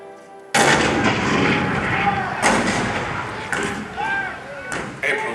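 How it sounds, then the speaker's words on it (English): Cannon artillery fire rings out in heavy, booming blasts. A sudden loud shot opens the sequence, and further thunderous reports follow at intervals of about a second, each one rumbling and echoing under a dramatic soundtrack. "The cannon spoke for war, bitter, violent, and devastating."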